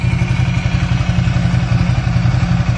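A Ducati motorcycle engine gives a loud, close, throbbing low rumble with rapid, even pulses throughout.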